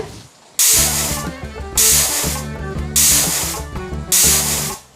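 A pressure cooker cooking lentils for sambar on a stove gives four loud, hissing whistles of steam at regular intervals, each sustained for about a second over a low rumbling background.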